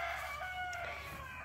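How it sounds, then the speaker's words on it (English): Backyard chickens crowing and clucking in a garden, a rooster's drawn-out call carrying clearly over steady outdoor background noise. "As you can hear, my chickens are crowing"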